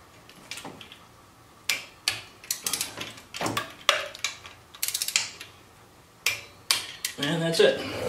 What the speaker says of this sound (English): So I set my torque wrench to 110.